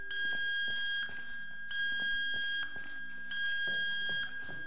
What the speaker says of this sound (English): It's the burglar alarm, you're stealing a mannequin.